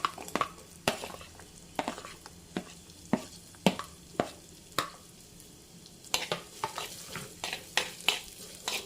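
Chopped small onions frying with curry leaves for fish curry, a steady sizzle broken by frequent sharp spatula clicks against the pan, growing quicker and denser toward the end.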